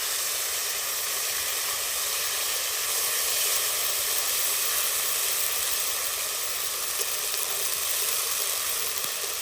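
Cumin and ginger paste, with whole cumin, sizzles in hot oil in a kadai, the same pan used for the fish head muri ghonto: a steady, dense, close frying hiss that holds at an even level throughout with no talking.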